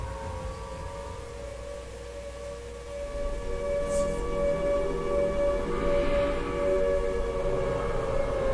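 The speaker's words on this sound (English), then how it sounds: "an air raid siren" An air raid siren in Silent Hill 2 drones in a sustained, wavering tone over low ambient rumble. It swells louder partway through and holds steady without speech.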